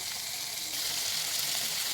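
Potatoes frying in a pan with salt and turmeric, giving a steady close sizzle throughout, with no voices.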